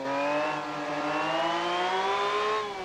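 Simulated engine of a six-cylinder car in BeamNG, tuned to resemble a V12, revving loudly and steadily with rising and falling pitch, alone without talk.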